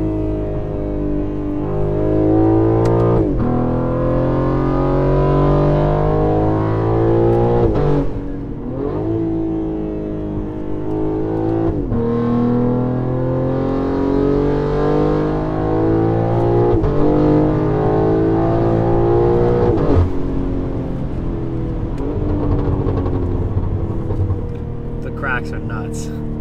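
Loud BMW G8x M3/M4 exhaust with equal-length headers and downpipes revving repeatedly, rising and falling engine notes with sharp pops and crackles between revs, close to the microphone.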